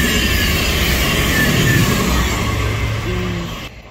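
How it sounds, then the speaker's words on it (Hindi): Loud rushing roar of a fast train passing through a UK station in Birmingham, a broad steady wash of noise close by that fades near the end. "वाओ बहुत तेज गुजरता है यहाँ से।"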